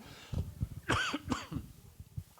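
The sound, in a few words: cough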